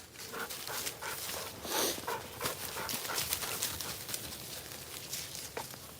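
A Rottweiler and a pit bull move through the woods on a morning outing, with steady rustling, padding and panting close by over a dense, noisy outdoor background.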